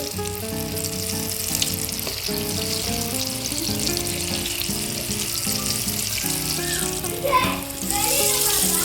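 Chana dal sweet dumplings frying in hot oil give a steady, busy sizzle and bubbling, loud and close, with faint background music and a brief stir near the end.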